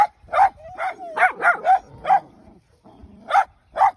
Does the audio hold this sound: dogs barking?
yes